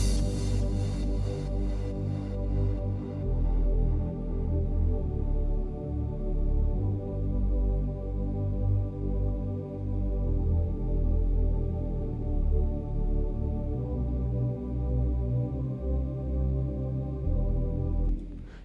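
Sustained synth pads from a trance track in progress play as dense, evolving chords, loud and steady with a shifting low end across nearly twenty seconds, with no talk.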